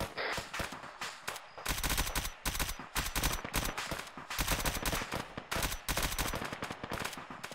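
Rapid automatic gunfire from suppressive fire in the video game Arma 3, loud repeated bursts of crackling shots in quick succession throughout, with no voices.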